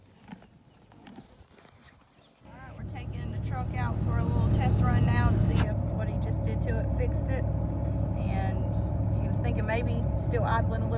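A vehicle engine idling slightly high on a small farm starts up after a quiet opening and then holds a steady low rumble, with a person talking over it.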